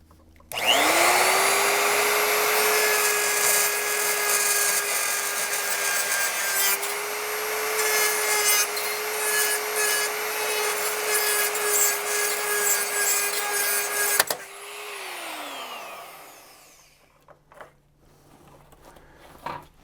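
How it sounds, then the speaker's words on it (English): A rotary grinder with a carbide burr contours metal while fitting a RockHard 4x4 swing-out tire carrier on a Jeep TJ, a loud, steady high whine with rasping grit that runs continuously before spinning down and stopping. "So now with a rotary grinder and a carbide burr, I should be able to contour this down fairly quickly."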